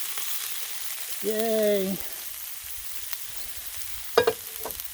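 Potatoes, corn and onion sizzle on a griddle for a seafood boil, a steady hiss underneath a brief high toned squeak and a short cheer.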